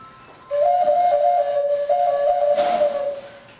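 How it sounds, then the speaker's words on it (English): A globular whistle flute plays a sustained, steady tone near and loud, holding one pitch with slight wavering, then a breathy burst of air partway through before the note ends. "So, this is like a whistle flute"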